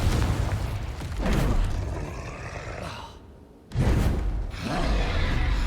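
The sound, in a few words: Confringo explosive spell blast in the video game Hogwarts Legacy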